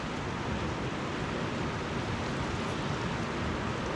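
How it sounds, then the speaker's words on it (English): Heavy rain pours steadily outside a bushcraft fishing hut, a dense, unbroken hiss close around the listener that holds at the same loudness throughout with no voices. "it's just pouring rain out there right now"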